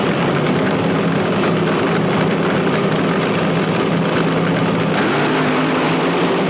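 A 1979 drag racing scene at the Ontario quarter mile, with a dense, loud, continuous engine roar filling the air before the run, steady and unbroken with no distinct revs standing out, heard from a distance across the strip.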